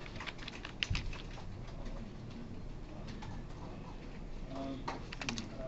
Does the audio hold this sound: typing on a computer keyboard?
yes